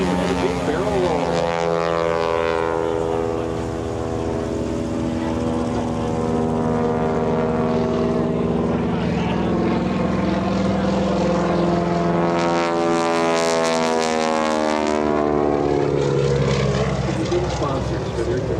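Propeller-driven aerobatic airplane at the EAA AirVenture airshow performing a big barrel roll, its engine droning steadily loud and close with shifting pitch as it passes, under an announcer's voice over the public address.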